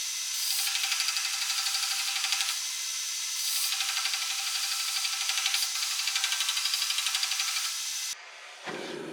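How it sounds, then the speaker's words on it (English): Belt grinder abrading a mosaic Damascus steel belt buckle, a steady loud hissing whir with a faint pulsing texture for about eight seconds before it cuts off abruptly. "to the grinder we go"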